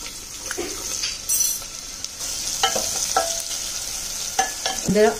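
Chopped onion hitting hot oil with cumin and asafoetida for a ridge gourd curry, a steady close sizzle with a few spoon stirs and scrapes in the pan.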